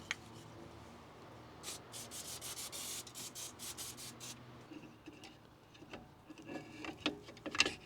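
Brake cleaner being scrubbed onto an oil-coated brake rotor on an Audi Q5 TDI 3.0 makes bursts of close, rasping rubbing strokes, rapid and repeated, then fainter irregular scrapes and taps.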